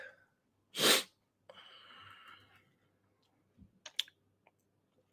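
A single loud sneeze bursts out up close, followed by a breathy exhale and a few scattered clicks in an otherwise quiet room.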